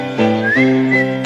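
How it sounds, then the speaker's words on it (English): A man whistles a short melodic phrase close up, clear and alone, with sliding pitch in the middle and a steady tone toward the end. "A whistling gentleman had come to visit me."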